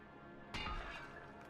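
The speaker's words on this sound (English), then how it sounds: "That smashing pottery sound says you're wrong." A single short crash of smashing pottery rings out as a game sound effect in L.A. Noire, brief and bright over a quiet background.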